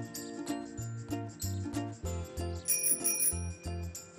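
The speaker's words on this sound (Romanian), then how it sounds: "Bicicleta mea are clopoțel ca a ta." A bicycle bell on a cartoon bike rings in bright repeated dings over a bouncy music backing, close and clear, with a higher ringing flourish near the end.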